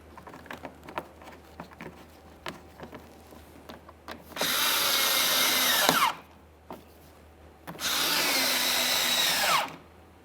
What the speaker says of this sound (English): We're going to be installing our 3 7mm mounting bolts in this area,